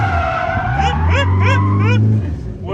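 An FJ20ET-powered car slides on an empty track, tires squealing in a loud warbling skid with a rising and falling whine over the engine roar. A voice can be heard briefly mixed into the noise.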